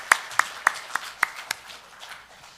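A handful of sharp, evenly spaced claps at an early-morning church service, about six in quick succession, then fading into quiet room noise.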